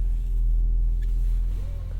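Low, steady rumble of a Mercedes-AMG GLE 53 engine and exhaust in quiet exhaust mode, a smooth continuous drone heard from inside the car.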